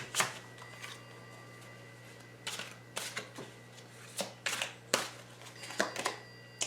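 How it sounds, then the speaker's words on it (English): Angel tarot cards are shuffled by hand in repeated bursts of crisp riffling and slapping, close and fairly quiet, with short pauses between each shuffle and no talking. "I'm going to pull an angel card, an angel tarot card"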